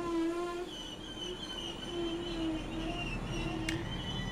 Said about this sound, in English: this DMU service is called the Sprinter